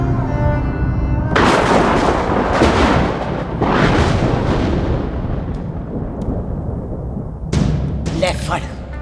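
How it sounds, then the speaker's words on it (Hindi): Heavy gunfire erupts in bursts of loud, booming, echoing shots, with several blasts spaced over a few seconds amid dramatic noise. "मार दी सारी गोलियां उसकी छाती में।"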